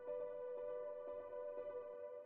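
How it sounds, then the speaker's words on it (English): Sustained, softly layered piano tones washed in a long-decaying reverb, a steady tonal haze with faint recurring note onsets blurring into the tail; quiet, delicate texture in an ambient electronic style, no voices. "I have this reverb on here, which sounds like this."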